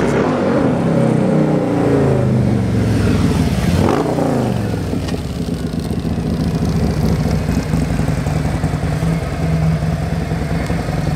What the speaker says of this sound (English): Whew, that bike sounds good.